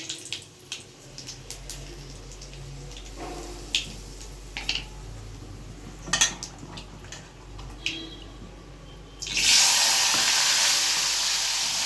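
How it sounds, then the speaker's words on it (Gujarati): Mustard seeds and dried red chillies crackle and pop in hot oil for a Gujarati tempering, scattered sharp spits over a low hiss, then a sudden loud surge of sizzling near the end. "સરસ વઘાર આવ્યો એટલા"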